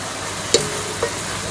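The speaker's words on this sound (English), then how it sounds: "first get some mince, which I'm browning nicely here" Lean mince sizzles in a frying pan with a steady soft hiss, broken by two brief clinks or scrapes of a utensil stirring it.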